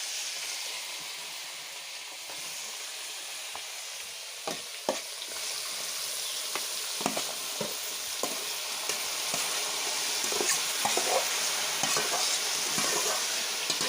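Meat and kohlrabi with onion stir-fried in a pan, giving a bright, hissing sizzle that builds as scattered scraping and clattering strokes of a spatula stir the food, close and without talk.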